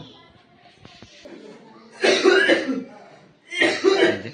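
During a drama shoot rehearsal, an actor gives two loud, close coughing bursts, each about a second long, after some quieter throat sounds.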